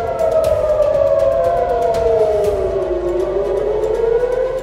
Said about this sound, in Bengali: হামলার সময় ইসরায়েল জুড়ে সাইরেন বেজে ওঠে।